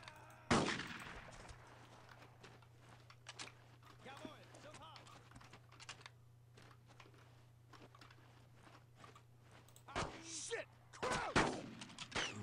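A sharp burst of gunfire opens the scene in the WWII game Brothers in Arms: Road to Hill 30, then scattered distant shots and footsteps follow under a low hum, and another loud volley of fire comes near the end, with talk throughout.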